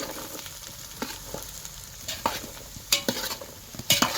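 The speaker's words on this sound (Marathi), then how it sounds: "सगळ्या मिक्स केलेल्या भाज्या टाकायच्या मिक्स करून घ्यायचं हे असं" Mixed vegetables are stirred in a hot pan. A soft, steady sizzle runs underneath, and sharp scrapes and clatters of the spoon come in uneven bursts, growing more frequent toward the end, with no voices.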